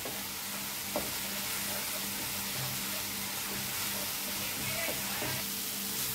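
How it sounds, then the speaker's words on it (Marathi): Spices roasting in a pan for lasuni palak, a soft continuous sizzle with occasional stirring scrapes and a couple of clicks, close and fairly quiet with no speech. "हे सगळे मसाले व्यवस्थित आपल्याला भाजून घ्यायचे आहेत।"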